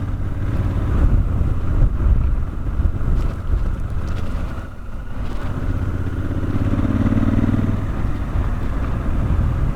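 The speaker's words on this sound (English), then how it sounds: "Test ride Africa Twin." A 2017 Honda Africa Twin DCT motorcycle on a test ride, its engine a steady, loud low drone mixed with heavy wind buffeting across the mic, running continuously with no one speaking.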